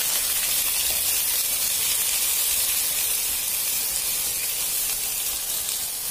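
Shrimp drop into hot oil with fried garlic for butter-baked prawns, producing a loud, continuous sizzling hiss that stays even and close throughout.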